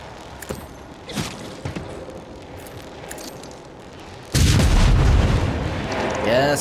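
Gunfire and heavy booming blasts in the Warhammer 40K Rogue Trader video game: scattered shots early, then a loud sustained burst of explosive fire, with a voice faintly present.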